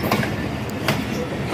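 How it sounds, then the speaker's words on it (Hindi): Rahman Baba Express passenger train passing on a loop line at Domeli railway station in Pakistan, a steady loud rumble of rolling wagons with rhythmic wheel clatter throughout, heard close by. "बहुत ही प्यारा व्यू रहमान बाबा एक्सप्रेस का यहाँ से क्रॉस होते हुए।"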